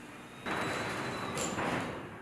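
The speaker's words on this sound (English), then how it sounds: "The door returns to the fully open position." A LiftMaster garage door moves to the fully open position after reversing on contact with a 2x4, rumbling and grinding steadily, a continuous mechanical whir lasting a couple of seconds.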